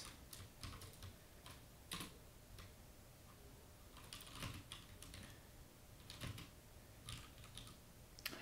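Computer keyboard keys clack in quick irregular bursts while someone codes in Vim, faint and close, with short pauses between flurries of keystrokes and no talking.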